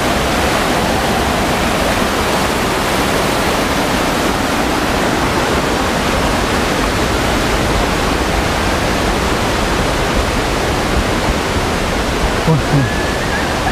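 Curug Muncar waterfall, a loud, steady roar of rushing water close by, a dense broadband wash that holds unbroken throughout.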